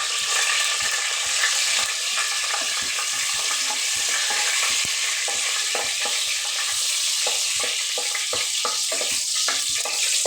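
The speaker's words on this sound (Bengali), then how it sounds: "এই যে 2-3টা শুকনো মরিচ দিব এই যে তেলের ভিতরে" Two or three dried red chilies crackle in hot oil: a loud, bright frying hiss punctuated by rapid irregular pops and stirring clicks, close up and continuous without speech.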